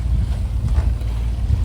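A small boat out on the sea off Porbandar, with a low steady engine and water rumble under heavy wind buffeting on the microphone.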